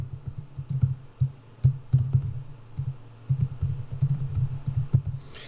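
Someone types a short name on a computer keyboard while setting up a Scrum board in Jira, with quick, irregular key clicks that come in small bursts and short pauses, close and clear.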